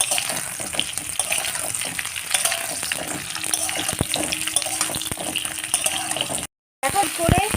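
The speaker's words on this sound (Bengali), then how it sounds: "আমি পটলটা একটু ভালো করে ভেজে নিই" Pointed gourd fries in a pan with a continuous bright sizzle and spatter, with a few sharp clicks of a utensil and a brief dropout before the sizzling resumes; nobody talks.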